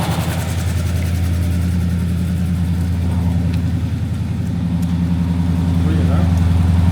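A Daimler Majestic Major limousine's cold Hemi V8 idles with a deep, steady, slightly shaky rumble close by, loud and continuous throughout with a faint lift in revs near the end.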